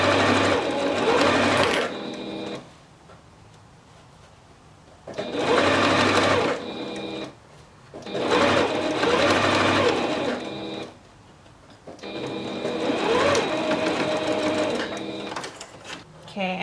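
Sewing machine stitching the hem of boy shorts, running in three long loud bursts with short quiet pauses between them, close and steady, with no talking.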